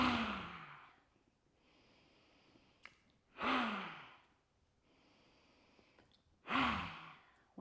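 Three forceful open-mouth exhales of a yoga lion's breath come at evenly spaced intervals, close and breathy, each trailing off into near silence before the next.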